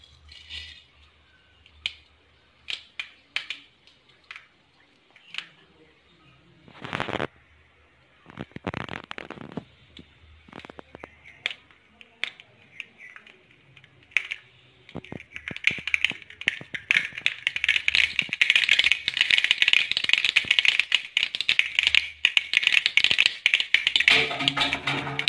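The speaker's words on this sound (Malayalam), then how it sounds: "എണ്ണ ചൂടായിട്ട് നമുക്ക് ഇതിനകത്തേക്ക് കടുകിട്ട് കൊടുക്കാം." Mustard seeds spluttering in hot oil for a Kerala taro-leaf thoran: scattered sharp pops at first, building after about fifteen seconds into a dense, steady crackling sizzle, close and fairly loud, with no talk.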